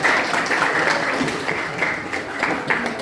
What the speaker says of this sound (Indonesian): Ya, tapi begitu perlu tepuk tangannya ya.